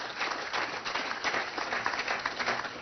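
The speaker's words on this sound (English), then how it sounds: "They deserve, of course, our round of applause." A round of applause from an audience at a prime minister's public address, fairly loud clapping with an uneven, fluttering patter that runs steadily from start to finish.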